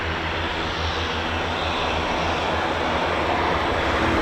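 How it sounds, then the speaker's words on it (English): Turboprop engines of a C-146 Wolfhound aircraft drone steadily at an RAF airfield, a continuous broad roar with a low throbbing hum, moderately distant and unbroken throughout. "You can just about hear its turbo prop engines."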